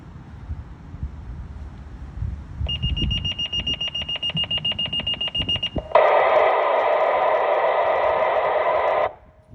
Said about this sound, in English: this is the final alarm for fellow fighter Thorpe.